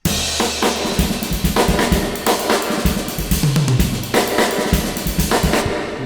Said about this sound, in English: You don't need that amount of reverb on any snare drum past 1982.